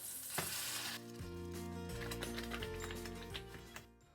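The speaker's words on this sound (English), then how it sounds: "To the same kadai, add 2 teaspoon butter, grinded mixture" Ground paste hits melted butter in a kadai with a sharp burst of sizzling, settling into a quieter, bubbling fry with faint stirring taps that trails off.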